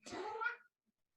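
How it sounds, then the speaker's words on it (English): A single short, clear cat meow, fairly close, heard alone in a quiet room. "Yes, that's my cat."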